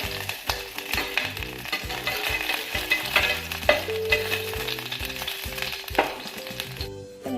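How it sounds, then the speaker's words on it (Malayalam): Half a teaspoon of ghee heating in a hot pan for carrot pola, with steady sizzling and frying noise under repeated clinks and scrapes of a spoon stirring. "പാൻ ചൂടാകുമ്പോൾ ഒരു 1/2 ടീസ്പൂണോളം നമുക്ക് നെയ്യ് ചേർത്ത് കൊടുക്കാം"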